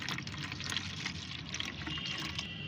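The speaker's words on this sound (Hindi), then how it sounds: "पहले इस पानी को मैं एक जार में इकट्ठा करती हूँ।" Rice water poured into a jar to be used as plant fertilizer, a faint, steady pouring stream lasting a few seconds, no talk.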